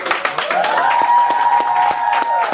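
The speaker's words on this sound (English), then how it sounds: "One more round of applause." Audience applause at a live talk event, with crisp claps ringing out loud and close over a brief tonal whoop or whistle that holds through the middle.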